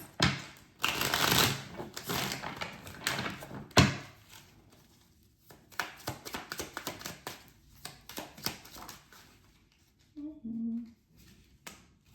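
Tarot cards shuffled in a reading, a burst of brisk riffling followed by looser shuffles and soft taps, close and fairly loud with no talk.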